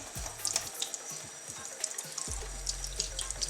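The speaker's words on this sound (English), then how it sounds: "Really rinse it out." Running tap water pours steadily into a sink while a makeup brush is rinsed under it, a close continuous splash with small bubbling and dripping accents throughout.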